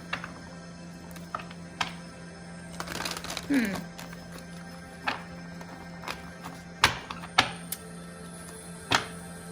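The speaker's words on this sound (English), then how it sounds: "I'm just doing it a couple times so you can see on camera." Tarot cards riffle and slap softly in short repeated bursts, a steady handful of shuffles close by with a low background hum.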